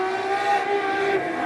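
Modified sedan race cars circling a clay speedway at Toowoomba, several engines blending into a loud, sustained roar with rising and falling revs as they race past.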